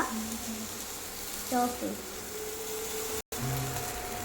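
Capsicum, tomato and green chili sizzle and are stirred in a hot pan, a steady frying hiss with a few light utensil scrapes, and a voice speaks briefly over it.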